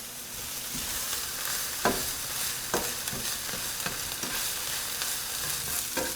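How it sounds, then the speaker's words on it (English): Onions sauté in olive oil with a steady, close sizzle, broken by several scraping stirs of a utensil in the pan, with no voices. "we're just going to saute the onions until they're soft"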